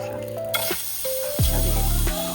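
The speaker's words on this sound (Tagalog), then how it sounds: "Ipiprito ko lang. Stir fry ko lang siya." Marinated beef sizzles as it is stir-fried in a pot, a continuous crackling fry close up, with clatter and stirring bursts over a steady low hum.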